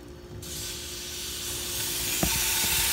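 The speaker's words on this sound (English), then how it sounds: "So I'm gonna fry them." Meat frying in a pan without added oil, only its own grease, giving a steady broadband sizzle that grows a little louder over a few seconds, with a couple of brief clicks near the end.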